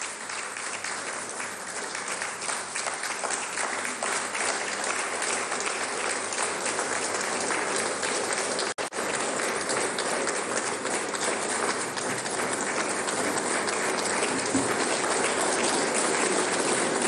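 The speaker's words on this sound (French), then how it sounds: "que je vous prie d'applaudir s'il vous plaît" Sustained, loud applause fills a charity gala hall, with crowd clapping dense and even throughout and a brief dip near the middle.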